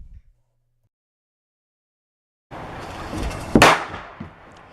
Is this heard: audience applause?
no